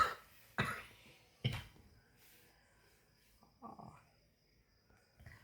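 A person coughs hard three times in quick succession, close and loud, followed by a softer throaty sound and faint background chirping.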